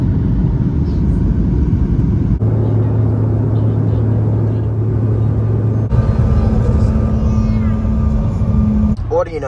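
Car driving home through falling snow, a steady close engine and road rumble throughout, with a brief squeaky sound near the end and no clear talk.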